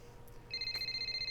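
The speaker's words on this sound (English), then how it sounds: "Well, there goes the phone again" A phone rings inside the F1 25 video game, its electronic ringtone starting midway and repeating in a steady pulsing pattern, close and clear over a low game background hum.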